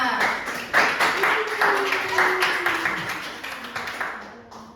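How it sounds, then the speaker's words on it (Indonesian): Classmates in a microteaching class clap for a fellow student, a small group's uneven, fairly close clapping with a voice speaking over it. "tepuk tangan untuk temannya"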